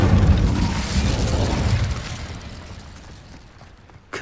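Incendio fire spell in Hogwarts Legacy on PS5 erupting in a loud, booming fiery blast that decays into a fading rumble over several seconds, with a faint click at the end.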